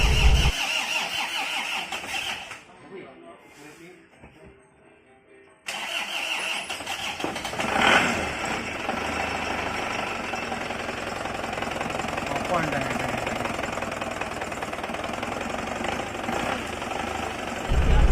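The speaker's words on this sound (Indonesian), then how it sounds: "kita starter mobil ini" A car engine at a mechanic's service is cranked and started, then settles into a rough, steady idle with a faint irregular knock; a brief quiet gap precedes the start, and voices are heard nearby.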